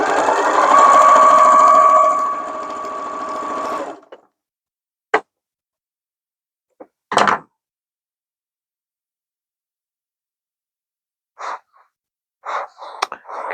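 A sewing machine stitches log cabin quilt pieces in one steady, close, whirring run of about four seconds, then stops, followed by quiet with a few faint handling clicks and brief rustles.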